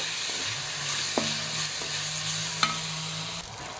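Chopped large tomato tipped into a hot frying pan with crushed onion, a close, steady sizzle with stirring scrapes throughout and a couple of sharper clinks.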